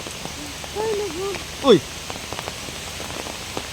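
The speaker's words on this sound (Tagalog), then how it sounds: "Wala pang alauna, umuulan na dito sa amin." Midday rain falls steadily around a house, a soft hiss of drops on surfaces, while a person lets out a brief exclamation and a bird calls near the middle.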